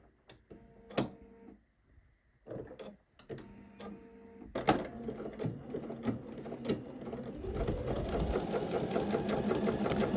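A sewing machine stitches a 5/8-inch seam down a skirt, starting with a few slow ticks and short bursts of needle movement, then speeding into a steady, close mechanical whir.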